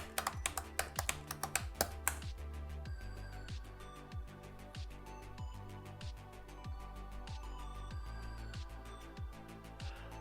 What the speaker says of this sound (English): We'll just type Dnstwist and then Priceline.com.